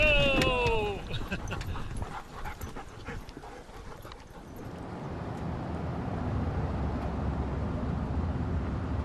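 Dogs beside the Yukon River let out a quick run of high whimpers and yelps up close. Then come scattered barks and panting, and a broad outdoor rumble takes over.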